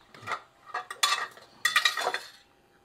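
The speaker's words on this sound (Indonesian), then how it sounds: "Panci tumbang no." Metal cooking pot clatters and rattles as it tips over, a series of bright clanks and clinks in quick bursts, close and loud with no talk.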